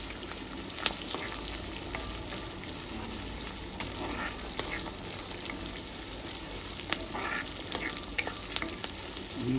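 Brinjal and dried fish curry fries in a pan with a soft, continuous sizzle and occasional stirring clicks, quiet and steady with no talking.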